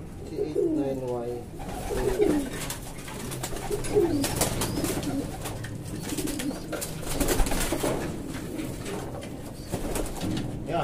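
Racing pigeons coo in soft, rolling phrases, several calls close by, while a person talks over them and background noise continues.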